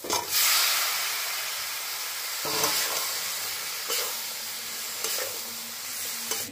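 Raw jackfruit pieces sautéing in a pan with turmeric, a steady close sizzle with occasional scrapes and stirs of the spoon, no voices.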